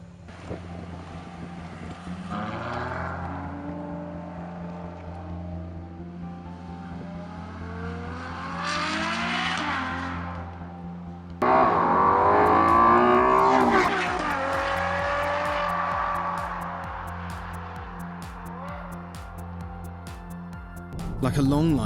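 A Ferrari FF front-engine V12 GT accelerating hard, with rising engine tone sweeping upward through gears, a sharp surge of loud revving midway, then settling into a steady cruise drone, with wind noise throughout.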